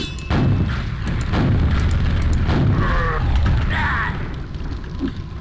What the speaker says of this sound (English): Rocket launcher. You see, it fires fast. Has homing missiles.